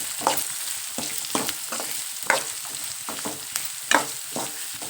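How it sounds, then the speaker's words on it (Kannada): Chopped onions frying in oil in a pan until turning reddish, a steady crackling sizzle broken by several clattering stirs of a spoon, close and alone with no voices. "ಇದು ಸ್ವಲ್ಪ ಕೆಂಪು ಹಂಗೆ ಸ್ವಲ್ಪ ಹುರ್ಕೋಬೇಕು."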